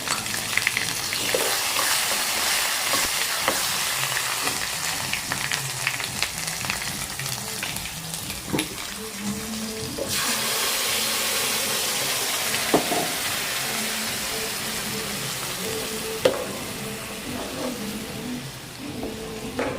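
Tempering spices crackling in hot oil in a pan for onion chutney, a steady, moderately loud sizzle with scattered pops and stirring clatter, no voices.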